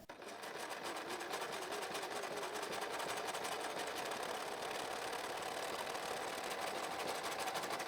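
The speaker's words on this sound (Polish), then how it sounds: "Potem możemy wypróbować ścieg zygzakowy." Domestic sewing machine running steadily on a zigzag stitch set to maximum width, a continuous mechanical whir with fine rapid needle ticking, close and even throughout with no voices.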